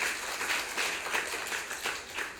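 Forum attendees at a social economy policy event give their speaker a round of applause, a moderate and somewhat distant patter of clapping from a hall audience.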